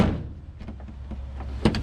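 A door on a Pioneer 1000-5 UTV is slammed shut with a solid, close thunk near the end, preceded by quieter handling and rustling sounds.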